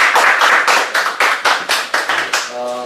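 An audience at a leadership and communication lecture claps to welcome Dr. Yoon Chi-young. The claps are distinct and rhythmic, about a dozen in near-unison, close and loud, and a brief tonal sound follows at the end.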